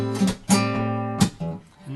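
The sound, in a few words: guitar pluck and thumb slap pattern at speed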